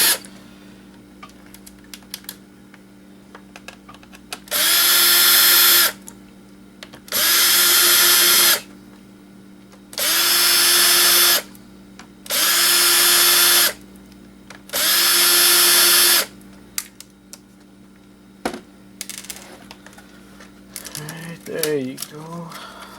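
Power screwdriver spinning screws out of an old laptop, five whirring bursts of about a second each with short gaps between, close and loud, followed by quieter clicks and handling noises.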